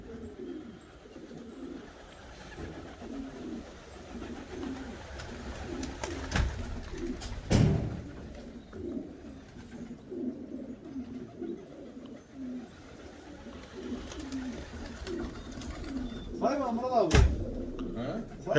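Pigeons coo in low, repeated burbling calls throughout, with people talking nearby and a few knocks and clatters in between.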